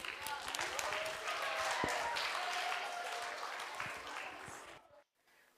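Audience clapping for a student at a school read-aloud contest, a steady mass of applause lasting about five seconds, blended with a murmur of voices, then stopping abruptly near the end.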